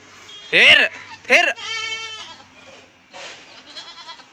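Two loud, close goat bleats come in quick succession at a village, then a longer wavering bleat, with fainter bleats and some talking afterward.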